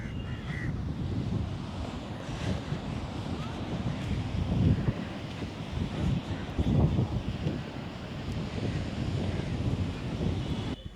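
Cold wind gusts steadily across Dhanushkodi beach, a continuous rough rush buffeting the microphone over the low roar of surf, with a few faint crow caws in the background.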